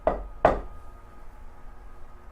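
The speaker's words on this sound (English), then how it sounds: "Troll Wife comes and knocks on the door." Two sharp knocks on a wooden door ring out close and loud, the second firmer than the first, followed by quiet room tone.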